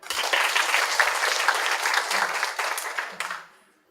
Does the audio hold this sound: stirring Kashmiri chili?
no